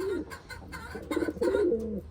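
Wantai pigeons coo close by in a short run of soft, throaty calls, several overlapping notes rising and falling over about two seconds.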